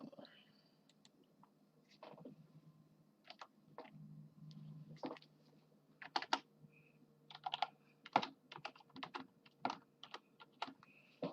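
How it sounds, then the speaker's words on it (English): Computer keyboard typing in bursts of quick clicks, typed into a stream chat during a Forza Motorsport 7 racing session, fairly close and moderately quiet, with a low hum and faint mumbling underneath. "So let me type something in chat."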